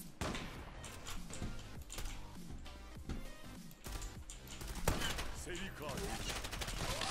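Rapid gunfire in the online shooter Zula, with dense bursts of shots and sharp impacts layered over game noise throughout, loud and continuous.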